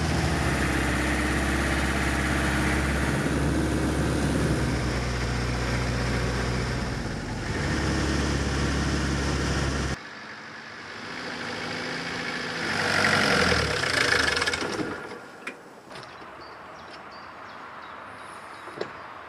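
A van engine drones loudly while driving for about ten seconds, then cuts to a quieter interior with faint rustling, a brief swell and small clicks.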